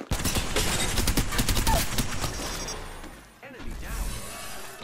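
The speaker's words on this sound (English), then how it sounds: "Opening fire on the enemy." Rapid bursts of video game gunfire crackle in dense volleys through the first few seconds, then drop off into quieter mechanical clatter, with a voice talking over the action.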